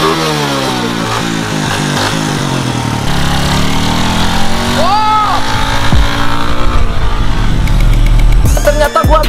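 A modified motorcycle is kick-started and its engine settles into a loud, steady running idle, with people talking over it throughout.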